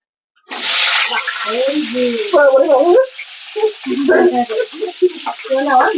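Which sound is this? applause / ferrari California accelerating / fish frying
fish frying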